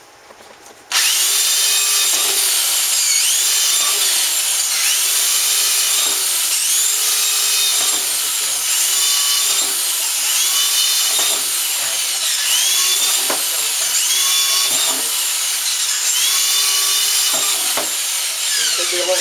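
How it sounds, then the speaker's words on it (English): A power drill bores drainage holes through a plastic bucket, its motor whining loudly in a run of repeated bursts that rise and fall as each hole is cut. The drilling goes on steadily throughout, close to the microphone. "drill some drainage holes"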